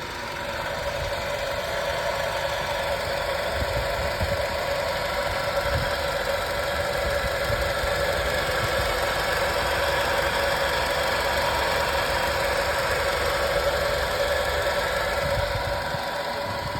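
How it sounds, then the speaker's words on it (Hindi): A Maruti Suzuki car engine idles steadily with a metallic grinding, scraping noise like iron parts rubbing, heard with the air conditioning switched off; a constant close drone and rattle run unbroken for about seventeen seconds with no talk. "कुछ ऐसा लग रहा है कोई लोहे का पार्ट, लोहे के पार्ट जब घिस रहा है, ऐसी आवाज़ आ रही है।"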